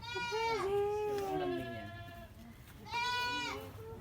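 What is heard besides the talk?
goats bleating on a goat farm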